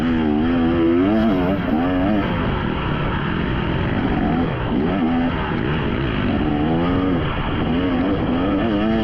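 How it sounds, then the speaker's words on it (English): A dirt race with engines droning continuously and loud, several motorcycles revving and shifting in close succession, including a two-stroke motorcycle engine passing nearby amid the buzzing. "here's a two-stroke coming, and he pulls off and lets me by"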